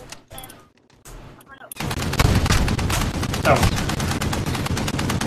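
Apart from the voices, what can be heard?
gunfire in Call of Duty Modern Warfare video game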